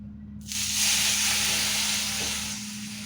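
Water poured into a pan of hot ghee while making carrot halwa bursts into a loud steady hiss and sizzle that swells quickly, holds for a couple of seconds, then eases slightly, close up with no talking.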